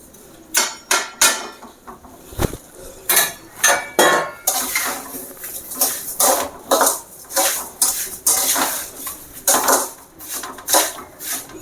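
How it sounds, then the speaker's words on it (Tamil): Rava kesari being stirred with a spoon in a metal pan as sugar is mixed in, with repeated close scraping and clinking strokes in an uneven rhythm, no voices. "அடுத்தது நம்ம சீனி கலக்க போகிறோம்"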